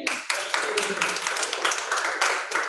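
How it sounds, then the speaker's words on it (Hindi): An audience at an acting and theatre class breaks into dense, continuous clapping that holds steady and fairly loud throughout, with faint voices underneath. "एक बार ताली बजाइए।"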